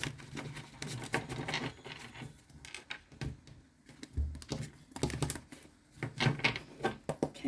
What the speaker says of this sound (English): Okay, one more shuffle for Sag